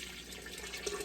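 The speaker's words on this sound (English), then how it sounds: "And now I'm just going to fill this up with water" Tap water runs steadily into a large canning pot, a continuous close splashing rush with no speech.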